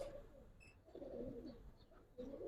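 Low, throaty pigeon cooing repeats in soft rolling phrases, fairly close, with faint background chirps between the calls.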